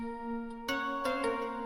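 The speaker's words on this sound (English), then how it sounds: "a Rhodes detuned shimmer that goes like this." A sustained, glassy detuned Rhodes chord from a Serum synth with a soft shimmering detune swells in after a quiet held tone, followed by a few gentle note attacks ringing out together.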